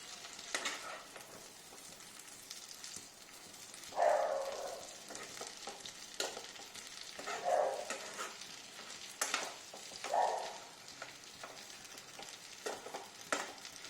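Jackfruit seed halwa stirred in a pan: a continuous soft sizzle with repeated scraping strokes of a spatula, a few louder swishes spaced seconds apart, close and with no voices.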